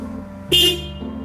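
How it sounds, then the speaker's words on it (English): A single short, thin horn beep from a 2019 Toyota Corolla LE sounds over a steady engine idle, cutting off after about a quarter second. "I wonder what the horn sounds like."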